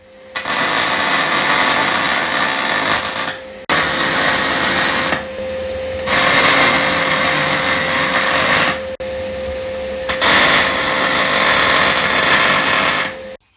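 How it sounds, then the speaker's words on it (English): Welding on a Motostandard 1010 motorcycle front wheel during repair: four long, loud, steady hissing bursts with a constant hum, separated by brief pauses. "We have now completely welded it"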